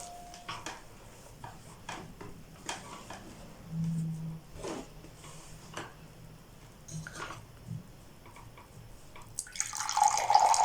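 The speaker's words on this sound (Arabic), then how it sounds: "واذا ما كفانيش الماء غادي نزيد ثاني الماء" Water pours from a glass into dough for Moroccan chebakia, light splashes and trickles close by with a few soft knocks, building to a louder stream near the end, with no talk.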